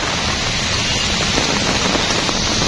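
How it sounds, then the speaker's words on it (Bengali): Heavy rain and strong wind during a cyclone form a loud, unbroken roar that fills the whole stretch without pause. "কি ঝোড়ো বাতাস, একদম এত বৃষ্টি, এত বাতাস, এত ঝড়"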